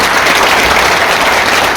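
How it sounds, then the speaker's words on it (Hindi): A loud, dense wash of audience applause at a network marketing training event, the clapping continuous and close. "शानदार ताली चाहिए सर के लिए।"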